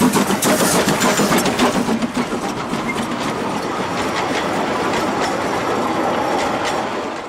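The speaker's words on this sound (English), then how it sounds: "the train leaves for Aluksne" Narrow gauge steam train on the Gulbene-Aluksne railway rumbling and clattering nearby, with a steady wheel-and-engine drone, a busier start easing into continuous running noise, no talk.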